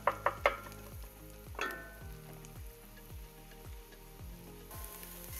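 Butter and fresh thyme sizzle in a pan with sautéed mushrooms for risotto, opening with a few sharp clinks followed by a soft, steady frying crackle, with no talk.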